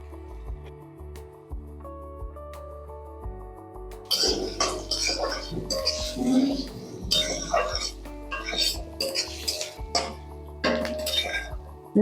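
Chopped onions frying in oil in a pan give a soft sizzle beneath clinking utensils and stirring clatter, while a person talks throughout.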